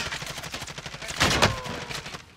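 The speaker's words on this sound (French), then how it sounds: "Le sniper qui me tire dessus." A burst of gunfire in a Warzone match, with a sharp, louder shot standing out midway above a rapid, steady rattle of repeated shots, close and without talk.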